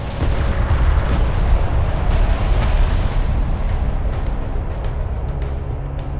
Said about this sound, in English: Hostile railgun opened up.